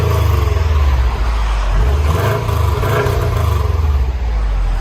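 Subaru WRX STi with a 2.5L engine and a resonator-delete exhaust revs loudly and close, a deep rumbling exhaust note rising and falling in several throttle blips with a steady idle underneath.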